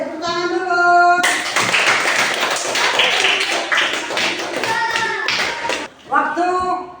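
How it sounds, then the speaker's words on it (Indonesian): A group of children in a religious lesson breaks into loud, dense applause lasting several seconds, with clapping bracketed by talk before and after. "Tepuk tangan dulu"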